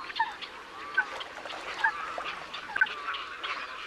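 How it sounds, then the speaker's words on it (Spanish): Greylag geese honk repeatedly at lagoons in Zamora, Spain: a loose, moderately distant chorus of nasal calls over soft outdoor ambience. "El ánsar es el mayor de los gansos europeos."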